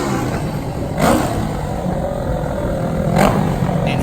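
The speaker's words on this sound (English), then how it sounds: "here comes the Ruckus Suzuki GS 500cc machine" Suzuki GS 500cc drag bike at a junior drag racing event, engine running at a steady mid-pitched drone with two brief revs rising out of it, one near the start and one near the end.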